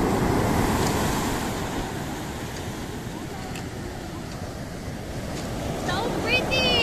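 Ocean waves wash onto a beach in a continuous, soft surf roar with wind buffeting the microphone. Brief faint voices and a few high calls are heard near the end.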